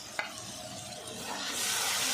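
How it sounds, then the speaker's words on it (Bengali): Turmeric and salt being stirred into spices frying in a pan for a pointed gourd and paneer dish, a steady close sizzle with a brief scrape of the spoon early on, the frying growing slightly louder toward the end. "এখন দিচ্ছি লবণ, হলুদ, ভালো করে মিশিয়ে কষে নিচ্ছি।"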